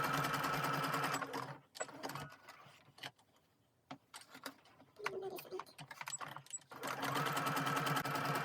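A sewing machine runs a zigzag stitch along the side of an Olson-style fabric face mask, a fast rhythmic mechanical whirr in bursts, pausing midway with small clicks and handling sounds before starting again.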